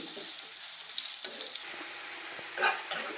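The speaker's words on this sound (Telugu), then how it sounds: "ఆయిల్ బాగా వేడెక్కిన తర్వాత ఉల్లిపాయలు వేసుకొని బాగా వే వేపుకోవాలండి" Onions frying in hot oil in a pan, a steady bright sizzle running throughout with a brief louder burst of spitting near the end, no voices.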